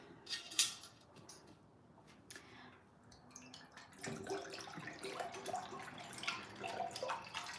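Hot water is poured into a glass jar, a broadband watery rush that starts faint with scattered drips and swells louder and steadier over the last few seconds.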